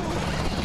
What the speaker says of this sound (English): I've got the helicopter meta event